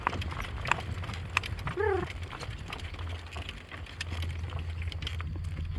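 A horse walks after trotting over a mile on a morning ride, with regular clip-clop hoof steps close by, a brief snort partway through, and low rumbling in the background.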